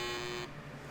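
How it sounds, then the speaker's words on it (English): Game show buzzer sound effect from Super Password, a single loud harsh buzz lasting about half a second before dropping away, up front with no talk. "Easy on the buzzer there, sound effects guy."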